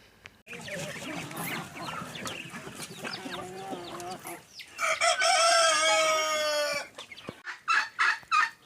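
Roosters crow loudly nearby, one long drawn-out crow standing out, with hens clucking and other farmyard fowl noises around it, including naked-neck chickens.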